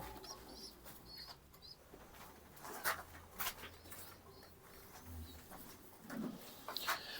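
Pigeons kept in a coop cooing softly alongside wing flaps and scattered bird calls, a low murmuring coo recurring through a quiet, slightly noisy background.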